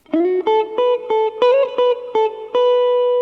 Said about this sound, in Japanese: こんな感じのドライブにしておいて、あとこのプレートのリバーブを足してます